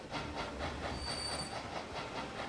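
A train in the game Transport Fever 2 rolls past with a continuous rumble and pulsing clickety-clack of wheels over rail joints, plus a faint high squeal, steady throughout.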